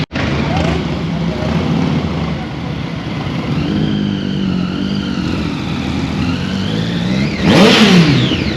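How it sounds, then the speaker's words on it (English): Several motorcycle engines from a trio of bikes rev loudly, rising and falling in pitch, with a sharp roaring pass near the end over steady background noise. "I guess I'll keep the revving sound of the bikes"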